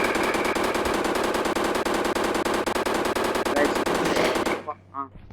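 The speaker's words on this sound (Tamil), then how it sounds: "நம்ம ஸ்னைப்பர் சவுண்ட் ரொம்ப இருக்கு" Rapid sniper rifle gunfire in a video game, a dense fast string of loud shots for about four and a half seconds, then stopping abruptly into a brief quiet tail.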